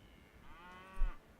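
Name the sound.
cow mooing in a video game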